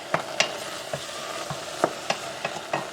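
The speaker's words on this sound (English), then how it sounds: "I'm going to keep stirring around so the juices permeate the bag" Rhubarb juice being stirred in a pot around a hibiscus bag, a soft continuous simmer broken by about a dozen light utensil taps and scrapes against the pot, close by.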